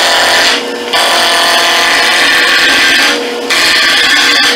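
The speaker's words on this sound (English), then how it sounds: "First thing I want to do here is knock the square off of this nice piece of oak we got. And for that, I'm just going to use a regular gouge." Square oak blank being roughed round with a regular gouge on a wood lathe, a loud, close, continuous scraping and chattering cut that briefly drops away twice as the tool lifts off.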